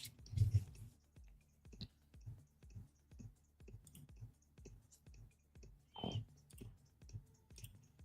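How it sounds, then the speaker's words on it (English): Rapid computer mouse clicks sound close and dry in irregular bursts of single and double clicks, with brief pauses between them and a faint breathy noise near the start and around six seconds. "Sorry for clicking everywhere"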